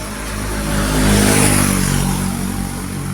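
Motorcycle engine noise on a busy road swells as a bike revs and passes close by, rising to a loud peak mid-way and easing off, with steady traffic rumble throughout.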